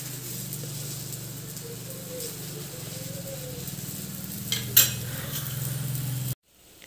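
An oiled lachha paratha roasts on a hot pan with a soft, steady sizzle, broken by one sharp metallic clink near the end before the sound cuts off abruptly.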